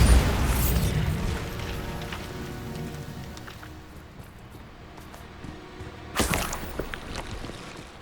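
A Bombarda spell explosion in Hogwarts Legacy: a loud, broad blast opens, its rumble decaying over several seconds, and a second sharp burst arrives near the end.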